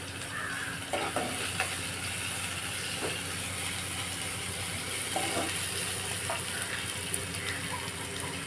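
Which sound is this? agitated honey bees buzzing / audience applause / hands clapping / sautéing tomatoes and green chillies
sautéing tomatoes and green chillies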